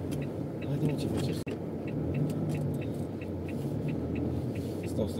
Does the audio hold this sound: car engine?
yes